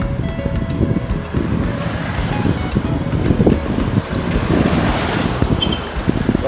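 A noisy van rolls along a rough, bumpy road in Baguio City, the Philippines, its engine rumbling steadily under rattling jolts from the uneven surface, close and continuous throughout.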